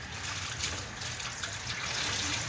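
A wet mop cloth is dipped into a bucket of water mixed with chlorine, giving a continuous close sloshing and trickling of water with no talk.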